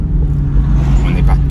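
Artificial engine sound of a Porsche Taycan 4S electric car, a steady low hum from inside the cabin while someone talks over it.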